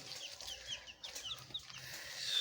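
Chicken chicks peep in quick, high, thin bursts, many overlapping chirps close by, fairly quiet overall and with no talking.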